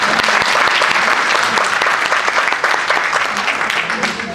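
An audience at a literary and arts gathering applauds with dense, sustained clapping that stays loud and close throughout, fading slightly at the end.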